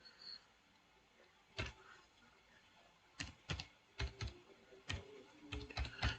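Username and password being entered on a computer keyboard: scattered bursts of close key clicks, a short cluster early on and then quicker runs of taps toward the end, over low room hiss.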